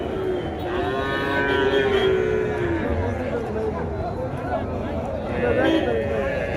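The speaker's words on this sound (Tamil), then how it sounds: "இங்கே எவ்வளோ நிற்குது பாருங்கள் மாடு கண்ணுக்குட்டிங்க." Cattle and calves lowing repeatedly at a crowded open-air livestock market in Tamil Nadu, long moos rising over constant crowd chatter and nearby talk throughout.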